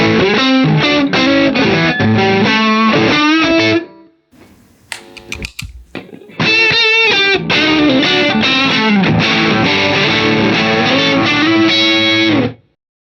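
Electric guitar played through a Dumble-style overdrive pedal, loud driven chords and riffs in two phrases separated by a brief near-silent gap with a few faint clicks, the tone warm and saturated.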